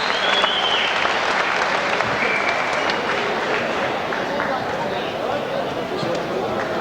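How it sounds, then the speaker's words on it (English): A crowd at a live fight event claps in sustained, steady applause, loud and continuous, with a voice speaking over it. "Come on, give Leonardo a big round of applause."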